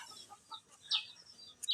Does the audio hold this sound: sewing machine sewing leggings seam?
no